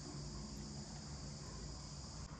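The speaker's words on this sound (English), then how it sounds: "Here is grasshopper." Grasshopper chirping in an insect-themed scene, a continuous, high, buzzing trill holding steady over low background hum, with no voices present.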